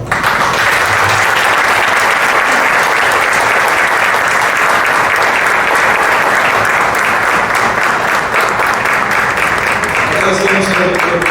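Loud sustained applause from a conference audience after a lecture on public-sector document management, dense steady clapping filling the whole stretch, with a voice starting to speak near the end.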